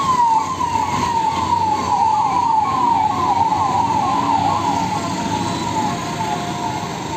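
A long line of animal ambulances in Uttar Pradesh passes with a wailing siren that sweeps up and down repeatedly, loud and continuous over road and engine noise.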